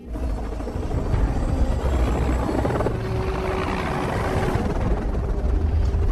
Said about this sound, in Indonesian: Setelah Claire dan yang lain berhasil kabur menggunakan helikopter